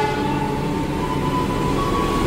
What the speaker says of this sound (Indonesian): Wah, ini papasan 2 kereta nih,